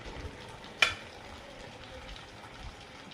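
Pre-fried fish dropped into a pan of cooking potatoes, a single sharp splash-like hit followed by a soft, low sizzle and quiet simmering.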